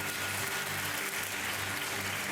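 Studio audience applause on a Hindi TV quiz game show, a steady dense wash of clapping filling the whole stretch with no pause.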